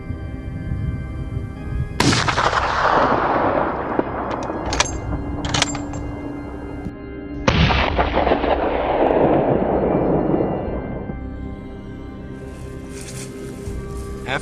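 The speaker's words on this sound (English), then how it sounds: "The sound of gunfire echoed through the valley" Two sharp, loud gunshots boom and roll off across a valley into long echoing decays, with a few fainter cracks between them.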